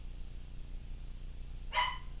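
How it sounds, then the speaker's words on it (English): A dog barks once, briefly and at a distance, in a quiet room with a low background hum. "And I apologize for my dog in the background."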